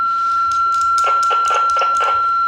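A Firstcom FC-220R radio receiver picks up a signal with the squelch closed, giving a steady tone overlaid by a quick run of pulsing, beeping chirps.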